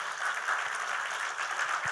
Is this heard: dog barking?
no